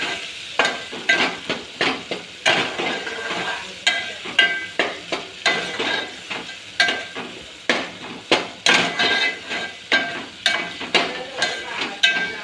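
Onions fry in oil in a pan, a spatula scraping and stirring in repeated rhythmic strokes over a soft background sizzle, close and fairly loud, without talking.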